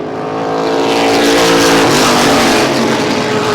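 Race cars roar around the track at Hermiston Raceway, a loud continuous engine drone that swells and holds as the pack passes close by, with no talk heard.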